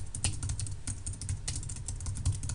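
Typing a map title on a computer keyboard in ArcMap: a quick, close run of light plastic key clicks in an uneven rhythm, with no voices.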